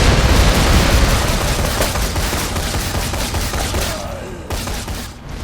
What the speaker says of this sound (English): I actually don't know what set off that explosion there.